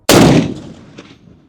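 A single loud AK-50 rifle shot cracks out sharply at close range, then rolls into a long decaying echo with a faint bump as it fades.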